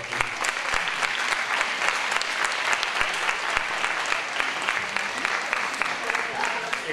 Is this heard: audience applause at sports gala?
yes